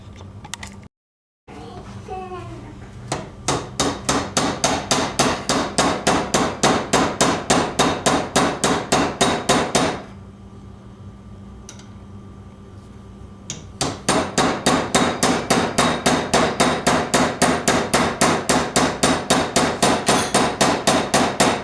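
A hammer pounds steel against steel on an M1 Carbine front sight, cushioned by a rubber washer. Sharp, evenly spaced blows ring out close and loud, stop for a few seconds, then resume at the same steady pace.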